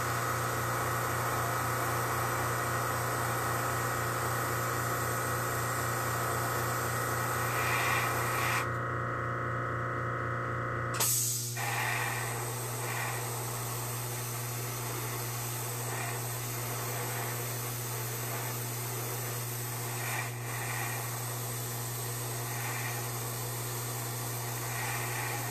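An airbrush sprays paint over a stencil on kitten-themed bag parts, a steady close hiss that stops briefly partway through and then resumes, with no talking.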